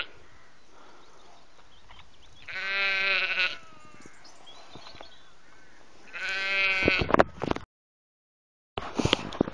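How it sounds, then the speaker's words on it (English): Sheep bleat in the Irish countryside, two loud, wavering calls a few seconds apart over quiet outdoor background, followed by a sharp break and a short burst of noise at the end. "Some sheep."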